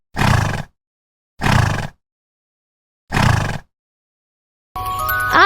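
A horse neighs in three loud, short bursts separated by clear silences, followed by a different tonal sound at the end.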